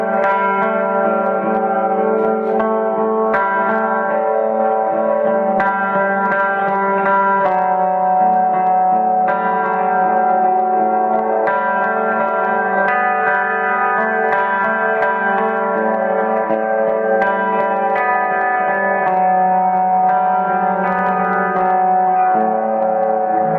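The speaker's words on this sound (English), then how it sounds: "So the church is a huge reverb, and that's great for ambient time playing." Guitar played through a huge church-style reverb on a TC Electronic Hall of Fame pedal, sustained chords and notes blurring into a long, dense wash that fills the whole stretch with no pauses.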